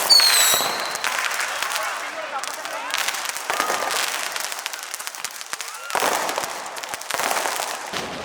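Diwali fireworks and firecrackers in Dubai pop and crackle in irregular bursts under a lively crowd, with people talking and cheering throughout.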